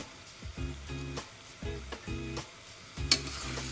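Rice and masoor lentils sizzle in a hot pan while being stirred, with a steady frying hiss broken by rhythmic scraping strokes about every half second and a sharper clink near the end, close and without talk.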